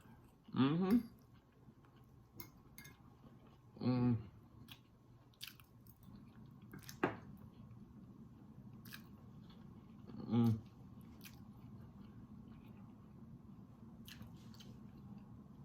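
Close-up mukbang eating of Indomie Mi Goreng stir-fry noodles and jerk pork: a few spaced, wet, squishy bites and chews stand out against a quiet background.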